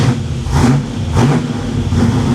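A cold Chevrolet Monte Carlo SS engine revs repeatedly, rising and falling in a few loud surges over a steady low rumble, close by with no talking.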